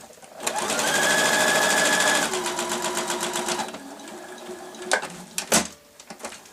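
A sewing machine stitches across the corners of a knitting needle case bag, running steadily for about two seconds, then in short bursts with a few handling knocks and clicks, close by with no talk.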